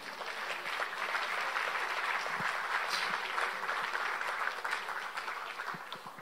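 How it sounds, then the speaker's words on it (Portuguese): Sustained applause from a church congregation honoring Jesus, steady dense clapping throughout at moderate level with no talk over it. "Podemos dar um aplauso a Jesus?"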